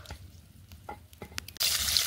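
A small fish dropped into hot oil in a kadai, with scattered faint crackles and then a sudden loud, steady sizzle that fills the rest, close by.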